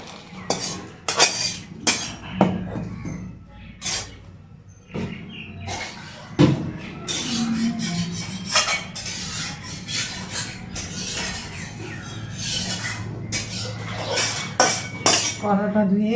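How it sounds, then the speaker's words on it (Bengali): A cooking pan clanks and scrapes against metal utensils and dishes in a kitchen as it is washed and set on the stove, with repeated sharp knocks and clinks and faint talk in the background. "কড়াটা ধুয়ে বসিয়ে দিলাম।"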